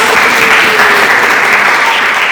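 Applause from an audience at a quiz session, steady dense clapping filling the whole short stretch at close range with no voices over it.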